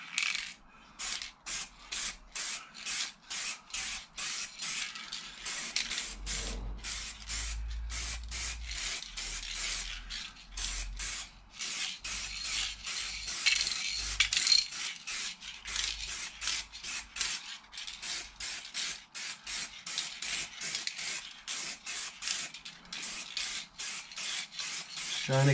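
Gold spray paint hissing onto motorcycle wheels in a quick series of short bursts, close and steady for the whole stretch with no talk.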